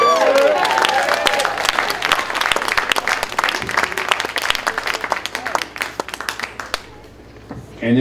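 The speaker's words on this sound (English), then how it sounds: "Another round of applause." Concert audience in Roosevelt, New York applauds after a classic R&B song, dense crowd clapping with some cheering that runs for several seconds before thinning out and fading near the end.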